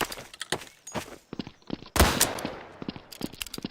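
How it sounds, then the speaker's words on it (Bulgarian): Flare gun fired in Garry's Mod, sharp popping shots and thuds in an irregular burst with one louder blast in the middle. "Опитам да изстрелям още един флеер."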